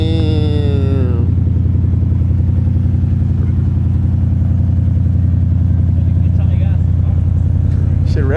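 A newly bought car's engine idles loud and close with a steady low rumble throughout, a short rising rev at the very start, and voices talking over it.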